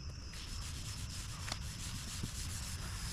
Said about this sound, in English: And just start basically scrubbing it.